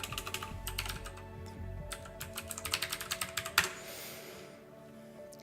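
Rapid bursts of typing on a computer keyboard, close and fairly quiet, with crisp clustered key clicks followed by a brief pause and a final tap.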